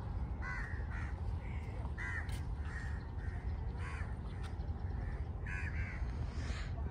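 Many crows caw repeatedly by the sea in the early morning, harsh calls scattered across the clip over a constant roar of surf and wind, with no speech.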